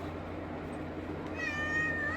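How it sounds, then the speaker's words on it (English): A house cat gives one rising, drawn-out meow in the second half, fairly close and clear over a steady background hum, with no talking. "This is my roommate's cat, Poopeter."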